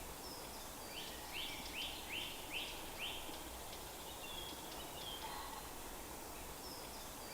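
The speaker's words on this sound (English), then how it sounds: "bird song that surround me" Countryside birdsong near a wind turbine: a short series of faint, quick repeated chirps rises and fades over a steady soft wind hiss, with a scattered distant call later.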